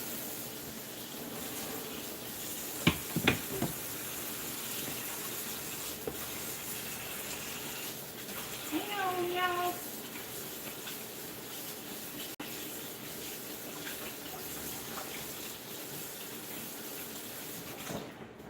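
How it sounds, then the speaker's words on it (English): A kitchen tap runs in a steady, even rush while hands are washed underneath it, with a few brief splashes and clinks partway through. "Let me wash my hands."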